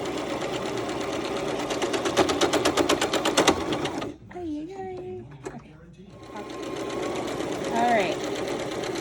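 A sewing machine stitches fabric for Disney mouse ears, a fast close rattle for the first four seconds, then pausing while someone talks before the stitching resumes more softly under her voice.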